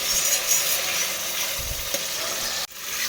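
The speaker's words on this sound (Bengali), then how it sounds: "এই যে টমেটো পেস্টটাও দিয়ে দিয়েছি এখন বেশ সুন্দর করে কষাবো" Onion, garlic and tomato paste stir-frying in a pan, a loud, close, continuous sizzle with stirring scrapes, briefly cutting out near the end before resuming.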